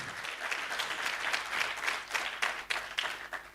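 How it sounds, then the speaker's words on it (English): An audience at an innovation competition breakout session applauds steadily for several seconds, a dense wash of claps with no voices over it. "Let's give him a round of applause."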